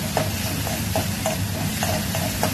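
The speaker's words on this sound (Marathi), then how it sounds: "यात घालायचा कांदा. पहिला थोडा हे परतून घ्यायचं." Onion frying in a pan, a steady close sizzle with regular stirring scrapes at a brisk rhythm, loud and continuous throughout.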